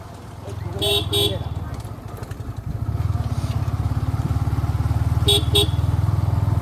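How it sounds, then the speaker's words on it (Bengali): Superbike ridden along a village road, its engine droning steadily up close, with two short bursts of horn honking and a louder stretch of revving in the second half, under some background voices. "একটা সুন্দর রাস্তা দিয়ে পাড়ার ভিতর দিয়ে সুপার বাইক নিয়ে যাওয়া হচ্ছে"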